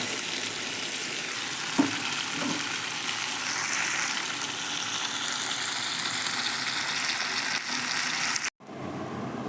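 Meat curry fries and sizzles steadily in a pan, a continuous close hiss with faint stirring scrapes, cutting off briefly before resuming.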